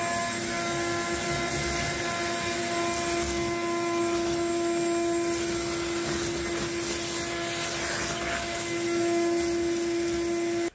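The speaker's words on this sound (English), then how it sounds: "I've whipped out the shop vac" A shop vac drones loud and close while cleaning a John Deere LT160 automatic lawn tractor, with a steady whine and suction roar throughout.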